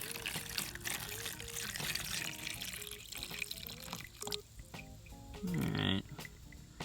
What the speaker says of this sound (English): So I'm gonna pour some water in here, probably till it's about half full.